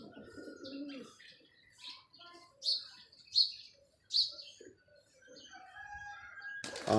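A kept pigeon gives a soft low coo near the start, followed by several brief, high chirps from nearby birds over a quiet background.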